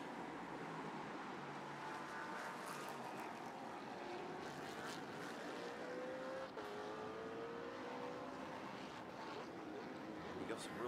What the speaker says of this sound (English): Some real speed out of that car.